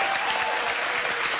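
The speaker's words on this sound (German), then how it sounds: "Wir bitten um einen kleinen Applaus für unsere Gäste heute Abend." A studio audience at a televised German comedy show applauds its guests, a dense, steady wash of clapping that stays loud and even throughout the short stretch, with no voices over it.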